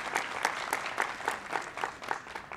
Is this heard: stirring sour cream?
no